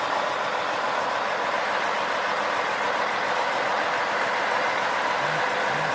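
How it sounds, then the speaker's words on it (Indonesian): A sugarcane railway locomotive on a cane line at the start of the milling season runs along the track with a steady, fairly distant engine rumble and broadband rolling noise, unchanging for the whole stretch. "Dan terlihat bumper lokomotif menyagruk tanah teman-teman ya."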